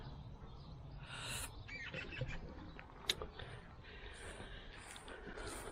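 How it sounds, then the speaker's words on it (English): Faint, high-pitched calls from baby birds somewhere in a nearby conifer, repeated over a soft outdoor background hiss. "I can hear baby birds of some sort in the conifer behind me"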